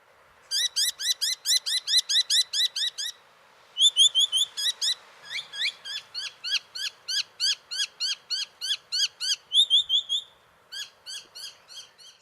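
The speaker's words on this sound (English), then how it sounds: "they have a very repetitive, annoying call, which they love to make in other birds' faces" A territorial native bird in an urban area gives a loud, close, repetitive call, a long run of rapid, evenly spaced sharp notes in several bursts with brief pauses between them, and no talking.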